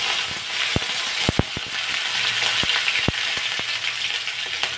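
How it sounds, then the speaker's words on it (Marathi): Curry leaves sizzle in hot oil in a kadhai, with popped mustard seeds and cumin already in it. A loud, steady frying hiss carries scattered sharp pops and clicks, heard up close. "जिरे फुलले की लगेचच कढीपत्ता घालायचा."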